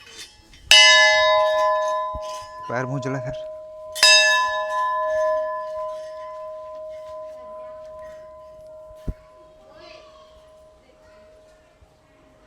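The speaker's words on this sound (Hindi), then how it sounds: "वहाँ पे घंटी बजा लेते हैं।" A metal temple bell at a village shrine is struck twice, each clang ringing out loud and then decaying in a long, sustained hum, with a person briefly speaking between the strikes.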